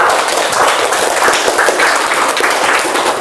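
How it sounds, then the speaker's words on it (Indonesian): An audience at a teacher-training session at Universitas Pendidikan Ganesha breaks into loud, dense applause, a steady rush of many hands clapping close by without letup. "Tepuk tangan."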